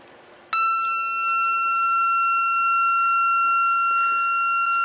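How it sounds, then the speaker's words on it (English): Steady electronic tone from a 555 timer chip circuit wired to a speaker, switching on abruptly after a short moment of background hiss and then holding loud and unchanging, shrill and buzzy like an alarm, with no talking. "This circuit is producing an audible tone that you can clearly hear."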